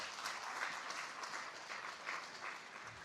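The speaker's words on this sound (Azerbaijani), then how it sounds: "alqışlarınızla şagirdləri öz yerlərinə yola salırıq" An audience at the 'Bilik Yarışı' knowledge-competition award ceremony claps warmly as students return to their seats, with even, sustained applause filling the hall and no talking.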